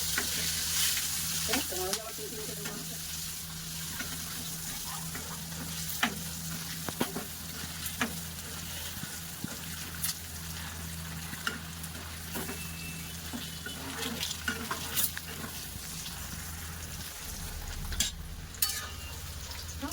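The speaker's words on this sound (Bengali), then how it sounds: "এবার আমি ডিমগুলো ভেজে নেবো।" Boiled eggs sizzle and crackle in hot oil in a pan, with scraping stirring sounds and occasional clinks over a continuous frying hiss.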